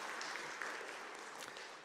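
A church congregation at a Sunday service claps together, producing a dense, even wash of applause that fades slightly toward the end and sounds somewhat distant.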